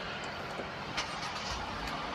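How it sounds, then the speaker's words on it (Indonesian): A Hyundai Creta 1.5 car engine starts and settles into a steady, even hum, heard close and moderately loud with no speech. "Sekarang kita nyalain mobil ini ya."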